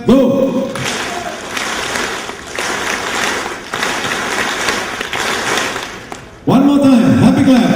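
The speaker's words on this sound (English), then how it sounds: "the happy clap is 1 time, 2 times, 3 times, 4 times, 2 times." A banquet audience claps together in a rhythmic counted pattern, dense clapping running steadily under a loud room with voices and music rising at the end.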